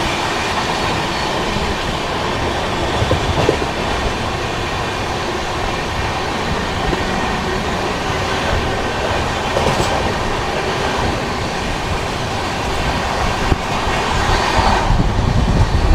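From inside a moving passenger train overtaking the Dadar Gorakhpur Special, a loud, continuous rumble of wheels on rails carries steady clickety-clack and occasional squeals, with no voices.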